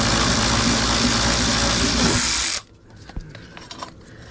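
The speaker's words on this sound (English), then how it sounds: "I got my little trusty Harbor Freight electric ratchet. I got that one bolt I have to take off" A Harbor Freight electric ratchet whirs loudly and steadily while backing out a bolt during brake line and ABS unit removal on a C4 Corvette, then cuts off, leaving faint metallic clicks and handling noises.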